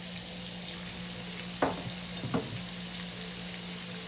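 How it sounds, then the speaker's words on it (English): Peppers and onions frying in a pan, a steady soft sizzle throughout with a couple of brief stirring scrapes near the middle, no talk. "while our peppers and onions are cooking"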